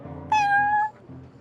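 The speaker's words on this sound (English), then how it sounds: "I thought having a cat take care of our new customer" A single clear cat meow in the Genshin Impact video game, a short bright tonal call lasting about half a second over faint background music.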